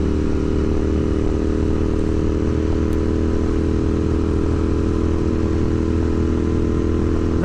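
A Royal Enfield Interceptor 650 with stock exhaust pipes and a Powertronic piggyback ECU idles and runs close by, a steady, loud, even engine thrum with a slight mechanical clatter throughout.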